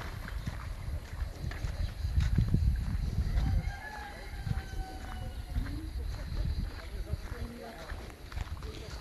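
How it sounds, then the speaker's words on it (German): Chickens cluck and a rooster crows faintly in the background while a person talks nearby, with occasional footsteps and rustling, at a villa in Alanya, Turkey. "man hört nur die Hühner und die Kuh manchmal murren"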